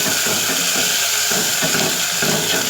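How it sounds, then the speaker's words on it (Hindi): Garlic, ginger paste, cumin and onion frying in oil for aloo ka bharta, giving a steady, close sizzle with faint stirring scrapes throughout. "लहसुन अदरक के पेस्ट को, ज़ीरे को, प्याज को ऑयल में अच्छी तरह भून लेंगे।"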